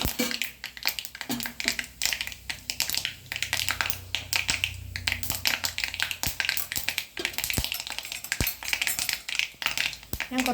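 Mustard seeds crackling in hot coconut oil in a cheenachatti pan, dense rapid pops and spatters over a frying hiss, continuous and close.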